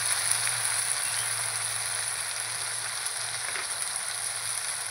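Ginger paste goes into a pan of frying potatoes with ground cumin and spices for a light fish curry, giving a steady, close sizzle and crackle of hot oil that holds level throughout with no talking.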